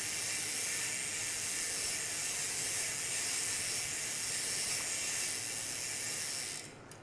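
Plastic chain cleaner being twisted along the chain of a foldable bicycle, a steady close hiss and whirring scrub running unbroken for several seconds before cutting off abruptly at the end.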